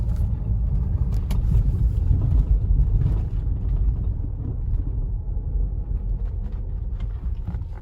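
A Volvo XC90 Momentum crawls slowly over off-road terrain in an off-road mode, giving a steady, loud low engine and tyre rumble with no voices.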